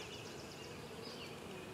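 A package of about 15,000 honey bees being dumped into a hive gives a steady, close, dense buzzing hum with no talking.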